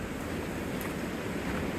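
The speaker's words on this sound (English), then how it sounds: "Listen to that water." Flowing water from a tarn and waterfalls in open fell country, a steady broadband rush that sounds near and moderately loud, with wind noise mixed in and no voices.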